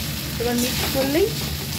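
Flattened rice poha with potatoes and fried peanuts stirred together in a frying pan, a steady sizzle with scraping stirs and a few short squeaky tones from the spatula, close and fairly loud.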